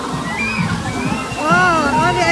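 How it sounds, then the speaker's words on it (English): Water sprays and splashes continuously at a kids' play area on a cruise ship docked in Ensenada, with people talking and children's voices over the sloshing. "it's water shooting for the kids to play"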